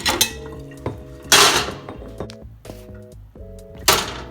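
A frying pan being pulled out and handled while making eggs, a few loud metallic clanks and knocks spaced over a few seconds, close by, with faint ringing tones and no talking.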